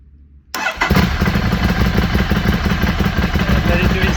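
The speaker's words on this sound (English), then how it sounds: "Let's start the engine." A Ducati Scrambler motorcycle, fitted with an upgraded starter cable, cranks briefly and fires, then settles into a loud, steady, close idle that runs to the end.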